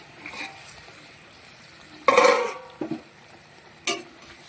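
Pabda fish slid into boiling curry in a pan, giving a sudden burst of sizzling and splashing over a low simmering bubble, then a short clink and a final sharp scrape.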